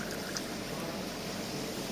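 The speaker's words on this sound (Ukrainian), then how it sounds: "далі при натисненні кнопочки він буде розливати" A SHOP-PAN alcohol dispenser pours water from its hose into a small glass, producing a soft, steady rushing trickle with a faint mechanical hum that holds evenly throughout, quiet and without talk.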